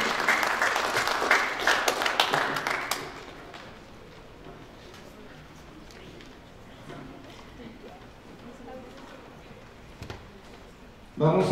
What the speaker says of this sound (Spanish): un aplauso más para nuestros expositores